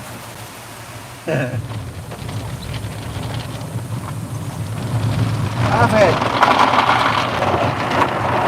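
The air dryer at a car wash blows as a broad, roaring rush of wind. It starts with a sudden burst and swells louder toward the end while people talk over it.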